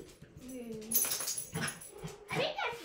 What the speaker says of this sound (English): Our dog is barking.